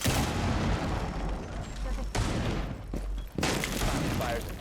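Dense, continuous gunfire and explosions fill a Rainbow Six Siege match, loud and close with brief gaps, while a player's voice is faintly mixed in.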